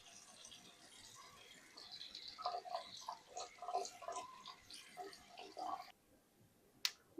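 Tap water runs over a small compressed towel tablet shaped like a disc, making sparse, soft drips and faint crackles up close, followed by a brief quiet and a sharp click at the end.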